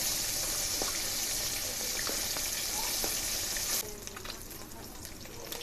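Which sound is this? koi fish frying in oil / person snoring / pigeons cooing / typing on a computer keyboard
koi fish frying in oil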